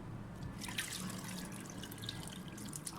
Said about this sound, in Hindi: अब इसमें मैं इतना पानी डालूंगी कि ये थोड़े से,